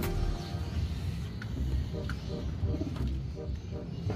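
Racing pigeons coo softly and repeatedly over a low background rumble, with their calls close by but not loud.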